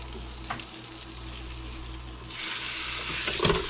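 Egg frying in a pan alongside sausage: steady soft sizzle throughout, swelling into a brighter, louder crackle in the second half as the egg hits the hot surface, with a small clatter near the end.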